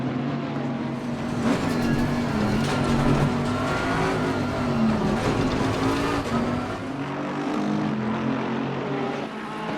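GT3 race cars, a Bentley and an Aston Martin Vantage among them, battling at Bathurst in a sim racing game: loud, continuous engine drone with shifting pitch and overlapping revs, steady and close throughout.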